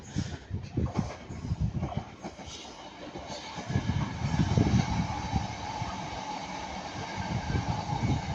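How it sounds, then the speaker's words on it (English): A Northern Class 323 electric train rolls past at Ardwick, its wheels thumping and clattering rhythmically over rail joints with a rising rumble as it passes close by, no voices over the noise. "passing by that's a Northern Class 323"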